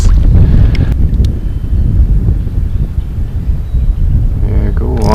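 Wind blows across a lake during a fishing trip in winter, a loud low rumble buffeting the microphone, with a voice heard briefly near the end.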